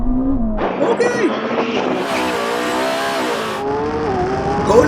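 Lamborghini Revuelto and Ferrari SF90 accelerating hard in a drag race, loud roaring engines climbing through rising revs with a harsh high-pitched whine midway, excited voices talking over it throughout.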